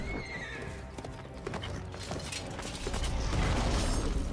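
A horse in the Witcher 3 game whinnies and clip-clops amid clattering, creaking game noises and a busy, rising mix of effects.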